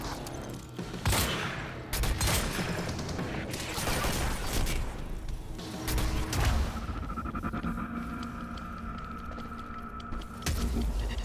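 Gunfire in the Quantum Break video game, a dense fusillade of loud repeated shots and impacts with booming bursts, continuous through a firefight with a brief lull.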